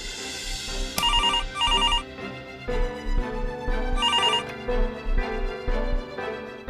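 A telephone rings in short, repeated electronic bursts, sounding twice in quick succession, pausing, then ringing again, loud and close over a soft musical background.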